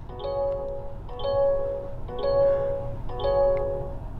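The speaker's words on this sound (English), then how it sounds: "You are gonna get some annoying chimes that are just gonna keep going and going." A 2024 Mazda CX-90 Turbo S Premium Plus sounds warning chimes at start-up, four evenly spaced electronic ding tones repeating about once a second, clear and close inside the cabin.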